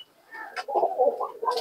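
A high-flying pigeon from Shantipur, Nadia, gives soft throaty coos close by, a short run of warbling notes rising and falling over about a second.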